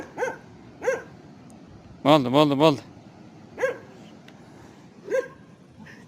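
Several dogs bark on a mountain picnic outing near Karakol, Kyrgyzstan, single sharp barks spaced out, with one quick run of three yelping barks, moderately near, while someone talks.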